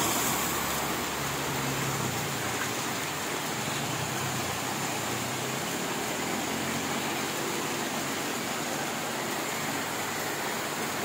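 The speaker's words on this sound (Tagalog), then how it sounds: "Lakas ng ulan." Heavy rain pours down in a dense, unbroken roar of broadband hiss that stays loud and steady throughout, with a faint low rumble underneath early on.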